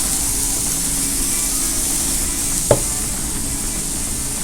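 Burger meat sizzles steadily on a flat griddle while a chopped cheese is made, a constant broadband frying hiss throughout with one brief sharp tap partway through.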